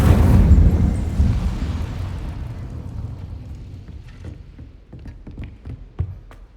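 In Hogwarts Legacy, an Incendio fire spell bursts with a loud, deep whooshing blast that rumbles and fades over several seconds, followed by scattered small crackles and footstep-like taps.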